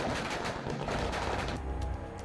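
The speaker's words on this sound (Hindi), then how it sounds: "जमकर आतिशबाजी की गई।" Fireworks and firecrackers burst in a dense, continuous crackling barrage, loud and rapid like gunfire, with deeper booms underneath and no voices.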